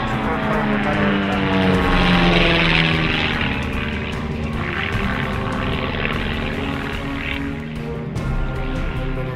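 A propeller aerobatic plane flies a display at a British air show, its engine droning loud and steady for the whole stretch, swelling and easing slightly as it manoeuvres, with no talk over it.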